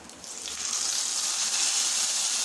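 Mustard seed tempering sizzles as it is poured into white pumpkin kootu, a bright, hissing crackle that swells within the first half second and then holds steady and close with no talk.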